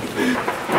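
Hail and heavy rain pouring down in a sudden storm, a dense continuous rushing patter with a low rumble underneath, loud and close, lasting under a second with no voices.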